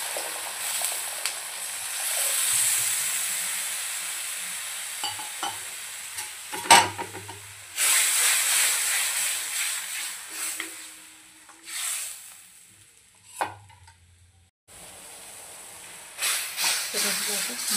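Water poured onto hot fried masala for a dhaba-style sev bhaji sets off loud bursts of hissing sizzle that rise and fade several times, with short quieter gaps and some faint voice between them.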